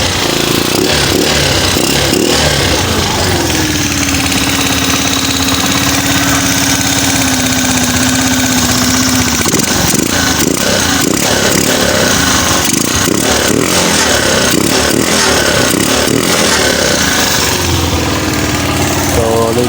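A motorcycle engine runs steadily and loud up close, holding a rough idle with a rise in pitch partway through, its rumble continuous for the whole stretch.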